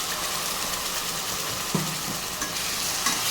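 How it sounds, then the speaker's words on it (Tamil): Onions and ground coriander paste sautéing in a pan give a steady, dense sizzle throughout, broken by a few soft scraping knocks as the mixture is stirred. "இதை சேர்த்துட்டு நல்லா வதக்கி விட்டுக்கோங்க."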